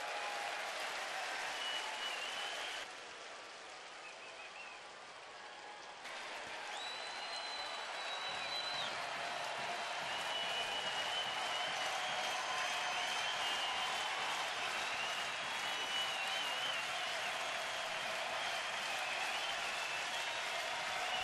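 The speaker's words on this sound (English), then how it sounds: "Friday night crowd frothing at the mouth here." A Friday night baseball crowd roars and applauds at Cleveland's ballpark as the Indians take the lead against Houston, a broad sustained cheer that dips briefly early on then swells and holds loud, with a faint whistle rising above.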